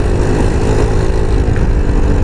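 An Easyride 150N motorcycle engine and exhaust, the exhaust altered to cut its noise because of a leak, heard while riding: a loud, steady, close engine drone that fills the whole stretch without a break.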